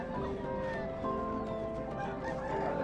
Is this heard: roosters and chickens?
yes